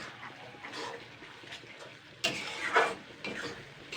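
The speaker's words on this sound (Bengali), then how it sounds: "এটা দিয়ে একটু নাড়াচাড়া করে নেব।" Flat beans dusted with chili powder are stirred in a pan, giving a few soft scraping and clattering strokes over a low kitchen background, with a louder burst of scraping near the end.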